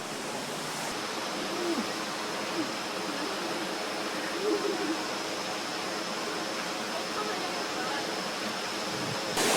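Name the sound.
waterfall with cold flowing water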